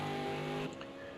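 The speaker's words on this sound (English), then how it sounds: "we've got Reese now coming through turn number 15, now into 16" A V8 Supercar in a PS4 racing game sweeps through a turn, its engine a loud sustained tonal whine that drops off abruptly partway through, leaving a quieter fading engine hum.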